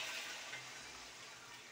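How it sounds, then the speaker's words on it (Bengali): Water pours into a pan of fried potatoes set to boil, a steady broad rushing gush mixed with soft sizzling that holds fairly level throughout, with no talking. "এই জল দিয়ে সেদ্ধ করতে দিলাম আলুগুলো"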